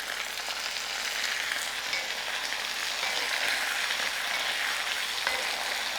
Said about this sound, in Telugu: టమాటాలు వేసేస్తున్నాను.